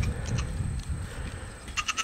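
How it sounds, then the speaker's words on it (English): A goat bleats close by in a few short, wavering cries, one early and a quicker run of calls at the end. "There might be some goat noise. A lot of it."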